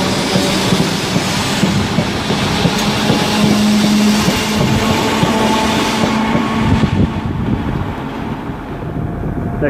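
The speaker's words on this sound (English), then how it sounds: "Next train to arrive is the 10:24 ARRIVA Trains Wales Service to Holyhead." A train pulls into Chester station, a loud continuous rumble and rolling wheel noise with faint rail clatter and a brief tonal hum, steady for several seconds before easing slightly.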